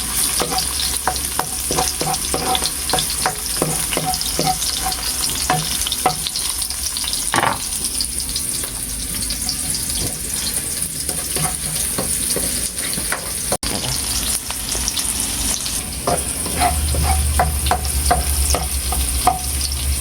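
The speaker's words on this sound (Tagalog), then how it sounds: "gigisa na po natin itong ating bawang. Sunod na rin po natin itong ating sibuyas." Garlic and then onion sautéing in a pan for a coconut-milk dish with balonglong, a steady close sizzle with repeated sharp clicks and scrapes of a utensil stirring against the pan, no voices.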